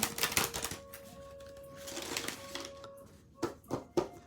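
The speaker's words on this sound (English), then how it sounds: "So you can riffle shuffle this." A deck of Dream Dust Shamanic Tarot cards is riffle shuffled by hand, a burst of rapid flapping clicks at the start, then scattered taps and three sharp snaps near the end, close and clear.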